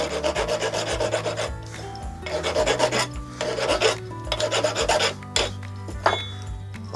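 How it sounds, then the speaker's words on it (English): A file rasps back and forth across the freshly cut edge of a steel coach bolt on a domestic gate hinge, with repeated steady strokes at close range and no talk. "Just file the edge of that down there."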